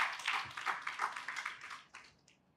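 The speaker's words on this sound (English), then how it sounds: "A round of applause." An audience at a Nigerian corporate awards gathering gives a short round of applause, a cluster of claps with a steady rhythm that quickly thins and fades.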